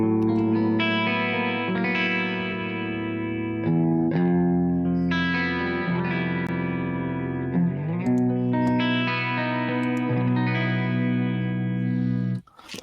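Distorted electric guitar on the bridge humbucker through effects, playing sustained chords and ringing notes, thick and saturated with chorus-like shimmer, continuous for several seconds before an abrupt cutoff.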